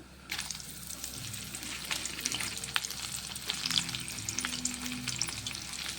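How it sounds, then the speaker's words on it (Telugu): Cut green chillies deep-frying in hot oil, a steady close bubbling sizzle with crackling pops that holds loud and even throughout, with no voices. "ఇవి ఇట్లను ఇప్పుడు నూనె కాగింది, అలా డీప్ ఫ్రై చేసుకున్నాము."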